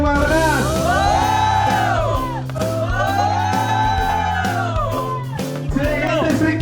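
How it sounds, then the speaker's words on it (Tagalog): A large crowd of motorcycle riders at a charity ride event in Pangasinan roars and shouts loudly in long sustained swells, voices rising together in repeated waves of yelling. "Sigaw ng mga lakas!"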